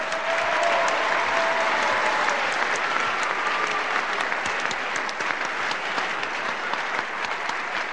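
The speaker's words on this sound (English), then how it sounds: "how about a big round of applause for two fine professional wrestlers?" Loud, sustained audience applause for two professional wrestlers fills the whole stretch, dense clapping from a large crowd that stays strong from start to finish.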